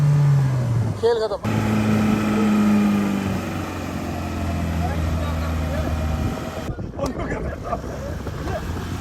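A Mahindra Thar SUV engine revs hard and steadily during an off-road self-recovery, its droning pitch rising and holding. People talk loudly over the engine throughout.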